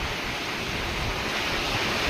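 A strong wind and rain storm outdoors, strong enough to threaten toppling trees, heard as a dense, continuous roaring wash of noise with no pauses and a slight swell toward the end.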